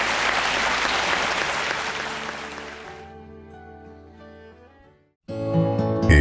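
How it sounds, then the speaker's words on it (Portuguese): A church congregation at an Igreja Internacional da Graça de Deus service applauds loudly over sustained keyboard chords, the clapping fading away over a few seconds. A brief silence follows before the music returns at full volume. "Vamos aplaudir a Jesus?"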